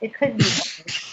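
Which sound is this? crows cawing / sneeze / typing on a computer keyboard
sneeze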